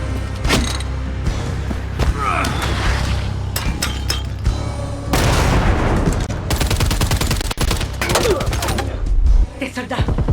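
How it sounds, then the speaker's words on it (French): Soldiers open fire in the zombie video game Dying Light, with scattered sharp shots and short bursts amid thumps and crashes, busy and close throughout. "Des soldats! On me tire dessus!"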